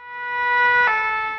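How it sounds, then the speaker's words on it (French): An ambulance siren sounds from an ambulance simulator at an emergency training exercise, a steady, loud electronic wail of stacked tones that swells slightly in the middle and holds throughout. "Cette sirène retentit bel et bien à partir de cet ambulance simulateur."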